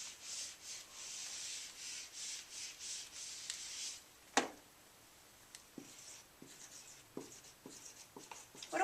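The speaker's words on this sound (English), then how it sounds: "So I'm going to erase this" A board is erased with a steady, rhythmic rubbing swish for several seconds, followed by scattered taps and small knocks as the eraser and marker are handled.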